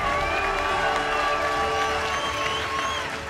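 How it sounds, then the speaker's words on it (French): A crowd on a French home renovation show applauds and cheers in a continuous wash of clapping with shouts and whoops, fading slightly toward the end. "applaudissements s'il vous plaît."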